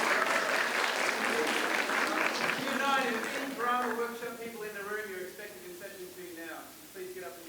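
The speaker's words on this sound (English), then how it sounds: "So let's give them a round of applause while they come up." Audience applause at a poetry slam in Australia, a full, steady round of clapping from a crowd that tapers slightly toward the end, with voices mixing in under it.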